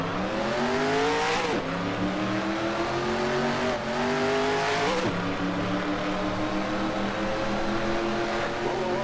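Race car engines in the NR2003 racing game roar loudly and steadily, rising in pitch through repeated upshifts as each gear winds up and drops back. Several cars are heard close together, with no voices.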